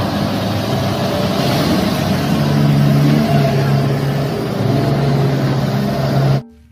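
A toy mining dump truck gives off a steady, loud motor whir and rev that holds through the whole stretch, with faint talk mixed in, then cuts off abruptly right at the end.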